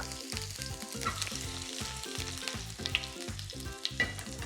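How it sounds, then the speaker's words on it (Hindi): Carom seeds sizzle and crackle in hot oil, a dense, steady frying hiss with scattered pops, close up and continuous. "ऑयल के अंदर जरा सी अजवाइन छौंकनी है"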